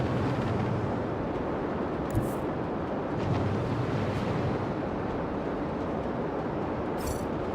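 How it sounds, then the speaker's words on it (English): An explosion in the video game Rogue Trader produces a sustained, heavy rumbling roar that stays loud and dense throughout, with a couple of brief crackling bursts on top and no voices. "try not to die in the explosion."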